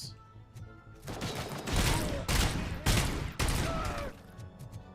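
Rapid bursts of gunfire from the RoboCop video game come in several dense volleys over a few seconds, loud against a quiet game background.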